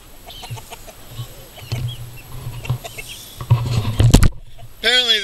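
Hens and chicks cluck and peep close by in short, scattered calls, rising toward the end, with a person's voice briefly over them.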